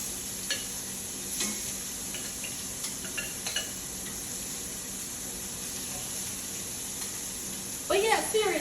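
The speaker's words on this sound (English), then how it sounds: "So we're putting our shrimps down. We'll get those seared off for a couple of minutes." Shrimp sear in a hot pan with a steady background sizzle, close and even, punctuated by a few light clinks and a louder crackling burst near the end; a voice speaks over part of it.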